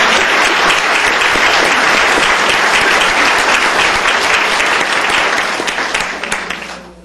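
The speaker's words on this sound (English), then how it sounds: "Let's give them a round of applause." A crowd at a county commissioners court meeting applauds honored ten-year employees with dense, loud, sustained clapping that fades out over the last second.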